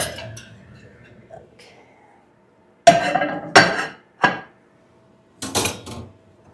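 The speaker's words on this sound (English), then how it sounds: "My pizza stone. I'm going to take that out." Pizza stone lifted out of a home oven: after a quiet stretch, several sharp clattering knocks and scrapes of stone against metal racks come in short bursts, close and fairly loud, with low background hum.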